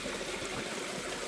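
Creek water flows in a steady, unbroken rush of trickling and babbling, close and even, with no voices.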